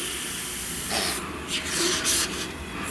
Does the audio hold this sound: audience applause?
no